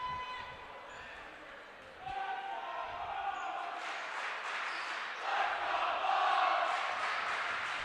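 Home crowd at a 2018 GNAC women's college basketball championship game roars steadily in a gym, swelling louder toward the end, with a ball bouncing and a commentator talking over the noise.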